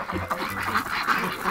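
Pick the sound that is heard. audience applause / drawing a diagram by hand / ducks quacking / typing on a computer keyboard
ducks quacking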